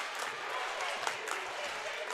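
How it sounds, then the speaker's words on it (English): Spectators at a women's college basketball game applaud in a steady, dense wash of clapping, with crowd noise and a commentator's voice running beneath. "The crowd coming to their feet here"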